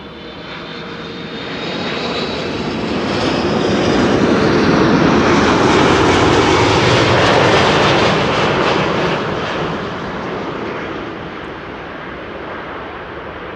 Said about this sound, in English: Delta Airlines flight 162, arriving from Minneapolis, Minnesota. A330-300,